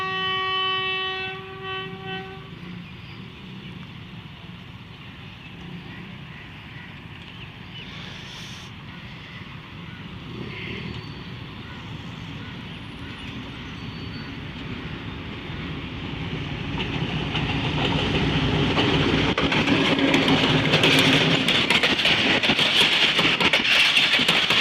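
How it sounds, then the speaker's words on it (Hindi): A rebuilt Pakistan Railway locomotive at Sanawan sounds its horn in a loud multi-tone blast at the start, then the diesel engine rumbles steadily and grows louder as the train runs past with rail noise. "ये मेरे ख्याल में लोकोमोटिव 80 79 ही है।"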